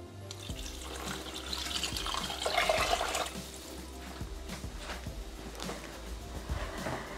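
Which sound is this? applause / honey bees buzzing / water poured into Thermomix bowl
water poured into Thermomix bowl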